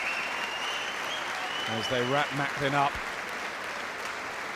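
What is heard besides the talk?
boxing crowd applauding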